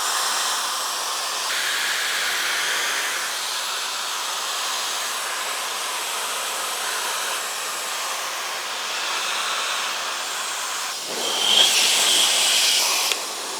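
A Dyson Supersonic Nural hair dryer with an attachment fitted blows right beside the listener, a sustained close hissing rush of air with a thin high whine, shifting in tone near the end as it surges briefly louder.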